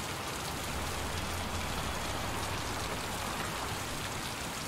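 Steady, dense rain in the video game Heavy Rain on PC pours down without letting up, a constant hiss of drops on surfaces with nothing else breaking through.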